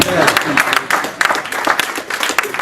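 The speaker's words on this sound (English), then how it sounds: "You can give me a better clap." Clapping from a convention audience, uneven bursts of applause swelling and fading in waves, close and fairly loud, with some voices mixed in.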